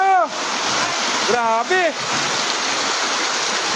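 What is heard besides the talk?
rushing floodwater with heavy rain from Typhoon Kristine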